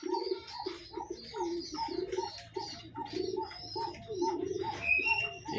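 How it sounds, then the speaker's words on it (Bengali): Pigeons cooing while they feed in the morning, a loft of pigeons with their young, giving repeated rhythmic low coos that overlap and continue steadily, close and moderately loud, with faint chirps in the background. "আজকে সকালে আমার তো কবুতরকে খাবার দিলাম"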